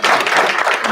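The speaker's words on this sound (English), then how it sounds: "One more round of applause." Applause from families and attendees at a school board meeting, a dense, steady wash of clapping that stays loud and even through the whole second.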